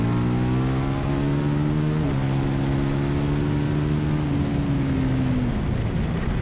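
A KTM 1190 RC8 R sportbike on a race circuit, heard as a loud steady engine drone held at high revs that dips and shifts in pitch, with no talking.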